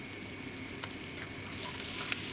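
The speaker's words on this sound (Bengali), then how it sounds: "এই পেঁয়াজগুলোকে আমি একটু লাল লাল করে ভেজে নেবো" Onions fry in hot oil with salt in a pan during home cooking of koi fish curry, giving a steady, even sizzle with faint stirring throughout.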